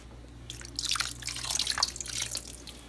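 Water poured over Concord grapes in a container while making homemade wine, a close, trickling and splashing stream that swells and fades over a few seconds beneath a steady low hum.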